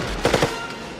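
Gunfire from the original Total Recall film, a short loud burst of three or four rapid shots in quick succession that then fades into a lingering rumble.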